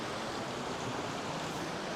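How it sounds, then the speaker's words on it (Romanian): A mountain river and waterfalls in the Aosta Valley produce a dense, steady roar of rushing water, broad and unbroken, loud and close, with no voices over it. "Peste tot cascade."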